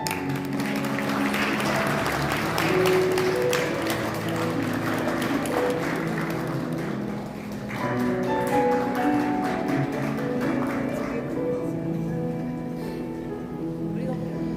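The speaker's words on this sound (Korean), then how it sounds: "네, 큰 박수 부탁드리겠습니다." Wedding guests applauding the bride and groom at a Korean ceremony, a long sustained wash of clapping with background music and voices mixed in.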